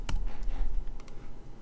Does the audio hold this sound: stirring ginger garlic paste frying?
no